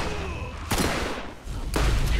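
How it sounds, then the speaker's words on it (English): Two heavy shotgun blasts in the video game Borderlands, about a second apart, each a loud close boom trailing off over steady in-game background noise. "I'm shooting him in the face."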